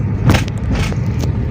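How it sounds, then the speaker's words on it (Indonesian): Evening traffic jam on the Pantura road: a steady low engine rumble from queued cars, with a few passing vehicle swells rising over it, close and fairly loud. "ini sore hari di Jalan Pantura macet sekali"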